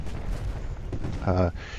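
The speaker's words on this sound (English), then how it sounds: "I'm just sitting here and we're exchanging gunfire." Musket and cannon fire is exchanged between Civil War units in the strategy game Ultimate General Gettysburg: rolling volleys and booms, fairly loud, with a voice speaking over them briefly.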